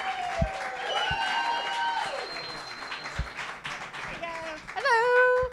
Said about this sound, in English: it sounded like more people clap for Tom than us